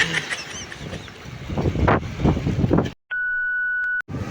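Strong wind blows at sea, buffeting the microphone in rough, gusting bursts for a few seconds before cutting out abruptly to a thin steady tone.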